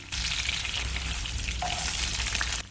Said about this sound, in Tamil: காரத்துக்கு தகுந்த மாதிரி பச்சை மிளகாய் சேர்த்து வதக்கிக்கலாம்